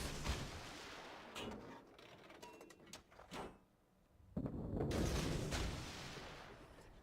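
Warship guns in a naval combat game fire in heavy booming blasts, a cluster of sharp reports early on, then a lull before a louder rumbling barrage swells and lingers.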